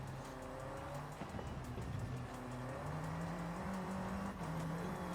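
Race car engine droning and shifting pitch through gears in Forza Horizon 5, a Gauntlet Rivals run in S1 class, with tires scrabbling and squealing over dirt, steady and fairly faint with no voices.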